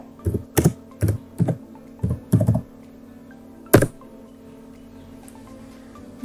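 Typing on a computer keyboard, a few quick clusters of close, crisp key clicks followed by a single sharper keystroke, then quiet room tone.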